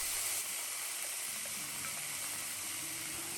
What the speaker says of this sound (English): add a small amount of butter. When the butter melts, add the apples to the pan